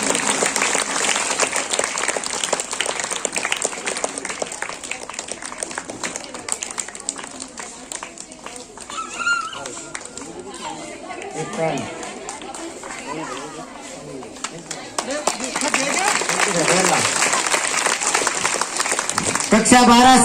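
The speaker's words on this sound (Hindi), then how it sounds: "जोरदार तालियां रुकनी नहीं चाहिए।" Sustained loud applause from a crowd at a school Independence Day award ceremony honouring students, dense steady clapping that thins out midway and swells again, with chatter and a voice over a loudspeaker at times.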